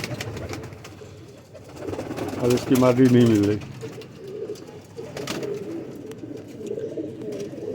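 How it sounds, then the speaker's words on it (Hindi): Pigeons kept as flying birds coo in a short, throaty burst near the microphone, with fainter cooing and rustling around it, while someone talks over them. "ये कबूतर देखें आप"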